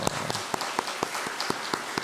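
Slow, sparse clapping from a church congregation at a Sunday service, welcoming visiting guests: a steady series of single hand claps about every quarter second, fairly faint and roomy.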